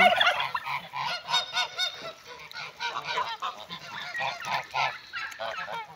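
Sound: geese honking

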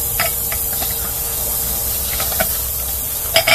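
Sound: aerosol starting fluid sprayed into engine

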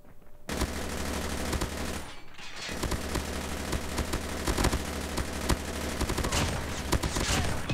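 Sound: akimbo Chopper machine guns firing in a video game

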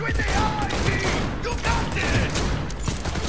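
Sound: gunfire in video game Cyberpunk 2077

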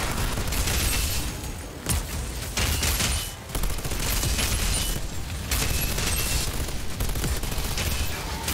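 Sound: submachine gun firing in the video game Outriders

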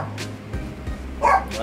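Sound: female dog barking

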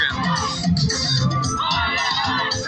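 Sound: kids screaming while playing in the street

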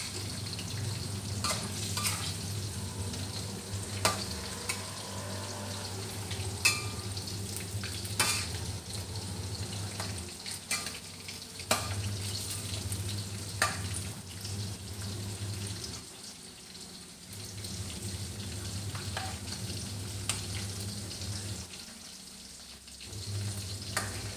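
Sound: chicken frying in oil over medium heat

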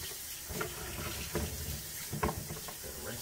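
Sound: rinsing a coconut under running tap water

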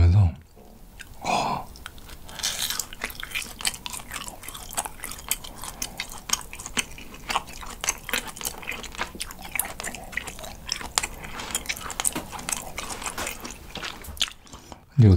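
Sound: chewing grilled cheese

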